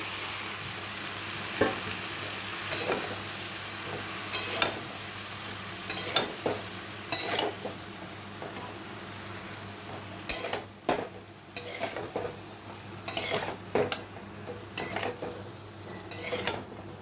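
Malabar spinach leaves go into a pan with a hilsa fish head and Malabar spinach stems for chorchori. A steady sizzle runs under repeated clatters and scrapes of a utensil stirring against the pan, with no talk.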